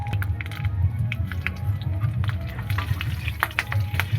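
Panch phoron seeds and slit green chillies frying in hot oil for a Bengali tengra fish curry with taro, a steady close sizzle with small crackles and pops throughout, no talk over it.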